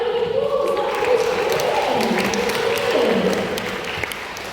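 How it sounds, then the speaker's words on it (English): Audience applause at a sea lion show in a safari park, a steady wash of clapping from a crowd that carries on for several seconds at even strength and fades slightly at the end. "But give Louis a little round of applause."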